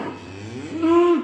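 A cow moos once on the slats of a barn beside her calf, a loud, close, rising low call that swells near the end.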